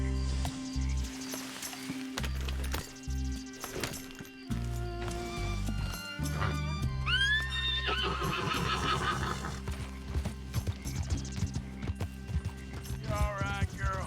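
A horse rearing in Red Dead Redemption 2 lets out loud, shrill whinnies over clip-clopping hooves and game music, with a rising neigh midway and another near the end, close and prominent.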